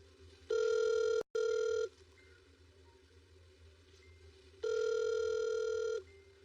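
Ringback tone of an outgoing phone call, heard as two long electronic rings about three seconds apart, the first cut briefly by a click, over a quiet background.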